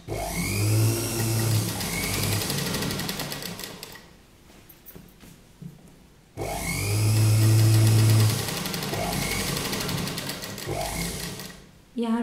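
An electric sewing machine stitches a yoke kurta in loud, steady whirring runs, stopping briefly midway before starting again, with a voice heard faintly over it.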